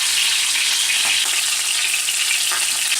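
Turkey breast skin, stuffed with sausage, gouda and spinach, sears in a hot pan with a steady, bright sizzle and crackle of frying, close and continuous with no talking.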